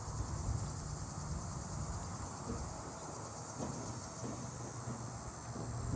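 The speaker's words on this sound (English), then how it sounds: "Oh, there's the Lenny cicada." A Linne's cicada calls in a neighbourhood setting, a faint continuous buzzing drone held steady throughout, heard at a distance among low background noise.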